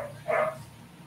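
A Doberman Shepherd dog gives one short, sharp bark at moderate distance, set against a quiet background with a faint low hum.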